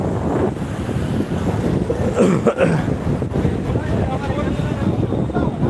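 Rough high-tide waves churn at Digha beach, a loud continuous roar of surf mixed with heavy wind buffeting the microphone.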